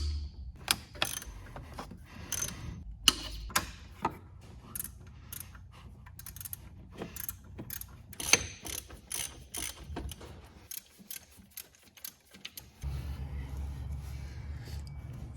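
A ratchet clicks in quick, irregular bursts while the tensioner bolt on an Audi S3 is loosened, close and clear, with brief pauses and a low hum near the end.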